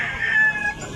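A three-year-old black-legged Hatch grey gamefowl rooster, a broodcock in Cebu, gives one sustained, fairly loud crow close by that fills the whole second, with no talking over it.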